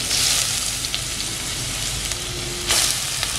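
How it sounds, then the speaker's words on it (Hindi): Cumin seeds and grated potatoes sizzle loudly and steadily in hot oil, a dense continuous crackle with a brief surge of spitting near the end. "तो यहाँ पे मैंने ऑयल लिया है तो सबसे पहले अभी मैं जीरा डाल दूँगी।"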